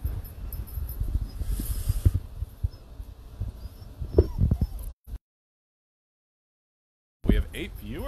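Puppies whimpering and yipping at a trout farm, with high thin whines and short yelps scattered through the clip, close and fairly loud, while people talk over them and a brief gap of silence falls near the end.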